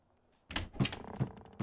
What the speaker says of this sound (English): Open the damn door.